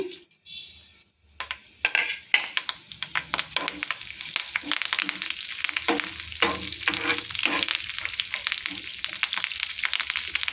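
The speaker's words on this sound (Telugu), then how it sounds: "ఆయిల్ హీట్ ఎక్కింది తాలింపు గింజలను వేసుకుందాము" Tempering seeds hit hot oil and burst into a loud, steady crackling sizzle with small pops, close up, alongside occasional scrapes of a spoon in the pan.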